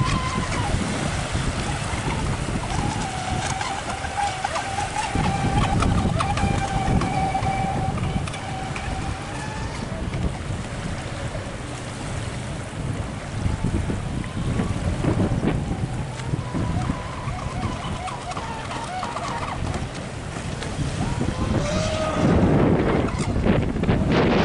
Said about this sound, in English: People coming on a boat.